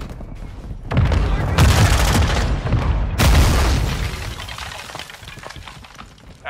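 A grenade explosion and rapid gunfire in Call of Duty Modern Warfare 2, heavy booms around one and three seconds with bursts of shots between, then fading to lighter scattered fire.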